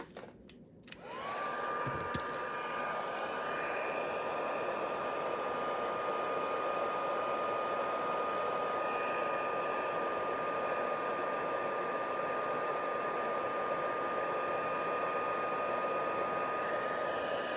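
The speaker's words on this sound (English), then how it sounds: "And I'm going to bring in my heat tool." After a brief clatter, a craft heat tool switches on and blows hot air in a steady, loud whooshing roar that holds constant to the end, with no talking.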